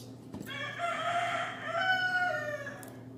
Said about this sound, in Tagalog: Tilaok ng tilaok.